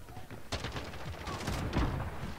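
Bizon submachine gun fire in Call of Duty: Modern Warfare, heard as loud bursts of rapid shots in a dense, cluttered game mix with no clean gaps between rounds.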